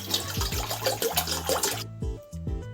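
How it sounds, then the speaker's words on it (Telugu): Cool water runs and splashes into a bowl in a home kitchen, a bubbling gurgling stream with a few plunking drops that stops abruptly, followed by a couple of lighter drips. "సో మనం ఒక బౌల్లో కూల్ వాటర్ తీసుకోవాలి."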